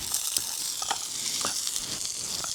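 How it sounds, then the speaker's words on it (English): Onions fry in a pan outdoors, a close, steady sizzle with crackles and small pops scattered throughout and no voices. "I've burnt my onions a little bit."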